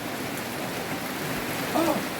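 Rain falling steadily, a continuous close hiss of drops on surfaces, with a brief faint voice-like sound near the end.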